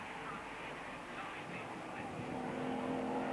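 Volkswagen Vento 2.8 litre VR6 race car engine at a 1997 one-make race, a smooth, steady high-revving drone held loud and continuous throughout, with a faint race commentator's voice underneath.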